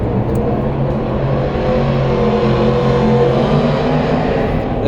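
Drift cars rev near the drift pad at the SEMA 2023 outdoor showcase, making a loud, steady engine roar that stays close and continuous for the whole stretch, with no voices over it.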